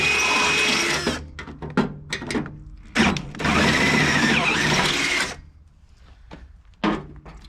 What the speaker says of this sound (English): one needs a little bit more drilling